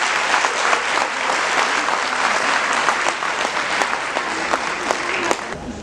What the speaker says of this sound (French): Je vous demande, s'il vous plaît, un double applaudissement pour ces 2 associations.